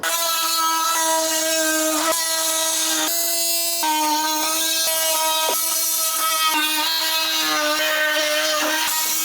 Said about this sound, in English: Time to cut out the rest of these slats.